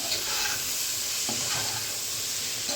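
Ivy gourd pieces being stirred in a pan, a continuous hissing sizzle with soft scraping strokes close by.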